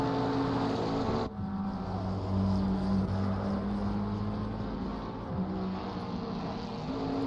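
Race cars lap Imola in an endurance event as a McLaren closes on a Camaro, a steady loud engine drone with shifting pitch holding throughout, with a sharp change in tone around the first second.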